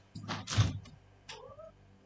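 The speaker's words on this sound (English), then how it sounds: "Oh, I can hear my cat." A pet cat named Pandora gives a few soft, short chirping murps close by, a couple of brief trilling calls separated by quiet gaps.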